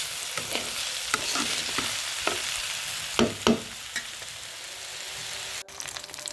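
Vegetable bhaji sizzles steadily in a pan while a utensil stirs it, with several scraping strokes standing out over the continuous frying hiss; no voices are heard.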